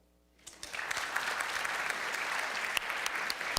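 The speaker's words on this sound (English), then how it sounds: "Clap if you think that we are actually real." A lecture hall audience bursts into applause answering a poll question, starting after a brief quiet moment and building into sustained clapping from many people.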